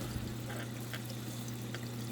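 An aquarium doser trickles water into a fish tank, a soft, steady pouring splash under a constant low hum from the tank equipment, fairly faint and without talking.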